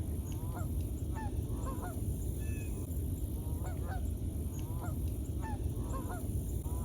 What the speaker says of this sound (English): Watch as this flock of Canadian geese flies overhead